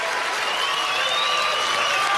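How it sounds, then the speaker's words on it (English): Poker tournament audience applauding as Jennifer Harmon exits in third place, a dense, even wash of clapping from a crowd, close and sustained throughout without a break. "Jennifer clapping for all her fans"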